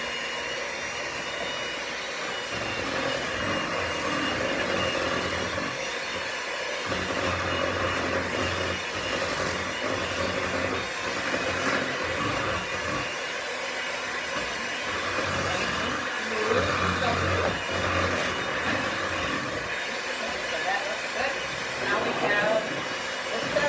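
Electric mixer beating cookie dough with powdered sugar and almond extract: a steady, loud whirring drone runs throughout with small dips in pitch and intensity as the beaters work, while a person talks over it.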